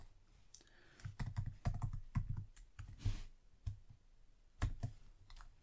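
Typing on a computer keyboard while entering a hex color code in Power BI, a quick irregular run of close, crisp key clicks with short pauses.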